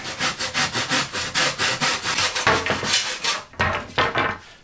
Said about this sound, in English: then we simply just cut them where the marked lines are